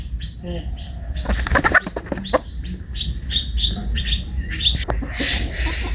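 Country chickens clucking close up amid a flurry of wing flapping, with sharp calls and rustling bursts over a constant low rumble in the morning, with a voice present in places.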